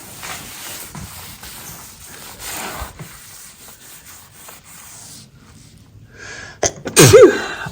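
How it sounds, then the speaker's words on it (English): Scratchy rubbing and scrubbing noises of cleaning with a cleaning spray in a bedroom, then a single sharp sneeze bursts out near the end. "why is it cleaning sprays always make me sneeze?"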